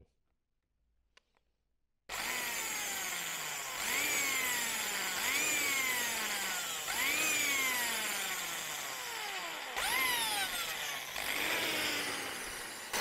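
After two seconds of near silence, a power drill whirs loudly and continuously, its pitch dropping and rising in repeated surges as it bites in, drilling a pilot hole on a Honda CB1100RS motorcycle build.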